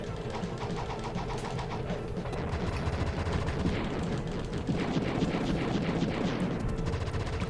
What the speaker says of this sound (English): I'll use a bomb on this guy, I guess